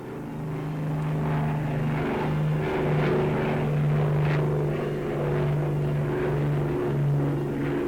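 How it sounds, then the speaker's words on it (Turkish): A steady, droning four-engine propeller aircraft hums continuously with a low rumbling pulse, holding a constant level throughout. "dört motorlu büyük tayarların hususi bir gösterişini seyrettiler."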